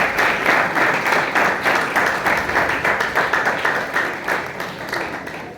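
A congregation at a Sunday church service claps loudly to welcome newcomers, falling into a fast, rhythmic unison beat that stays strong to the end.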